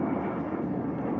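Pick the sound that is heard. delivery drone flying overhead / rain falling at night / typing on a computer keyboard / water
delivery drone flying overhead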